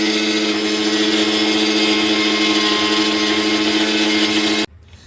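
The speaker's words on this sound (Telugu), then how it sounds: "వీటిలో తగినంత ఉప్పు వేసి మిక్సీ పట్టాలి." A kitchen mixer grinder churns tomatoes, ginger, green chillies and salt with a loud, steady electric whir for about four and a half seconds, then cuts off abruptly.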